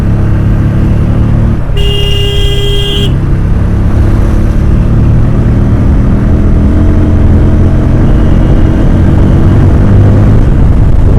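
A Bajaj Pulsar N150 motorcycle with a clutch that has no free play, its engine running steadily in fifth gear as the bike picks up speed, loud and close with road rush and a brief tonal horn-like toot early on.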